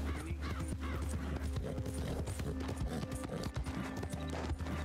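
A horse's hooves clip-clop steadily at a walking pace in Red Dead Redemption 2, close and fairly quiet, with a faint snort amid the ambient game sound.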